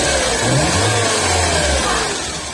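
A Ford Escort 1.0 engine with a freshly restored Weber 460 carburetor runs close by, its loud, rough mechanical rumble surging briefly and then settling, with no voices over it.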